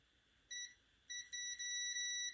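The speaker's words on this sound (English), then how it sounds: "you know that beeping sound, that means that, hey, there's current going." A few short, high electronic beeps from a multimeter continuity test: two brief chirps, then a longer steady tone that holds with slight breaks, clear against a quiet background.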